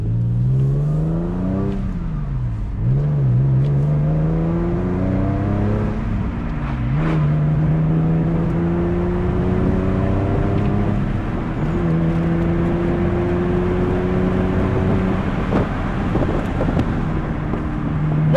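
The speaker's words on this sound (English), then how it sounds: "Well, if you didn't know, this has the sports exhaust." A Porsche convertible with sports exhaust drives with the roof down, its engine rising and falling through several gear changes over steady wind rush, loud and close with no talk.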